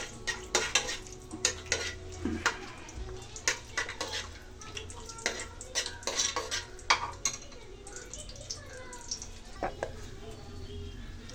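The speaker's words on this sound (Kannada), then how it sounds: "ಗೋಡಂಬಿ ಹಾಕ್ಕೊಂಡು ಫ್ರೈ ಮಾಡ್ಕೊತೀನಿ" Cashews frying in a pan on low flame for egg biryani, with a soft sizzle under repeated clinks and scrapes of a spoon stirring against the metal pan, close and steady.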